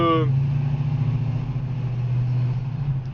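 A 1956 Chevrolet pickup's engine drones steadily at close range, a low sustained rumble that holds through the whole stretch, with a brief bit of talk at the very start.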